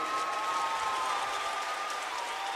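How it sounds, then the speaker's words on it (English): A large live crowd at a Rainbow Six Siege Year 9 roadmap reveal event applauds steadily, a dense wash of clapping and cheering at moderate distance with a faint tonal hum underneath. "I can hear them in the crowd."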